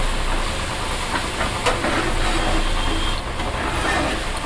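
Onion and garlic paste fries in a pan over low heat, giving a steady, dense sizzling hiss with no pauses throughout.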